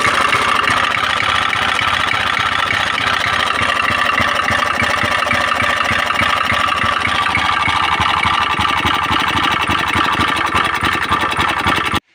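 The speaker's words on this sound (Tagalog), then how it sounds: "di mo malaman kung saan galing yung ingay, sa block, o sa connecting rod, o sa kanyang piston, o sa kanyang camshaft, o timing chain" A Pulsar/Rouser 135 motorcycle engine with a noisy, rattling fault runs steadily and loud up close, its rapid mechanical clatter holding an even rhythm throughout with no pauses.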